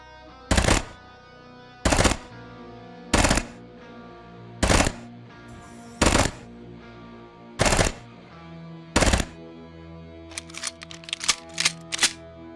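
A gun in the turn-based tactical game Quasimorph fires seven loud, evenly spaced short bursts, followed by a quick flurry of sharper clicking shots at the end.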